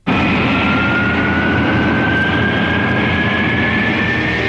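A loud, steady roar of a Concorde jet airliner climbing after takeoff, broadband and continuous with a high whining tone slowly sliding through it.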